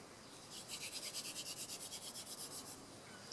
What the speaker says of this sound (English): As you're grinding the two woods together, you'll see some dust forming in the notch area.